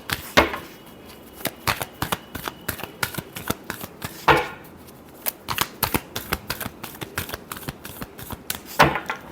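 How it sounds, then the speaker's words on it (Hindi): Tarot cards being shuffled for a reading: a rapid run of crisp papery flicks and slaps, repeating in bursts with a few louder riffles, close and clear, with no voices over it. "Last shuffle."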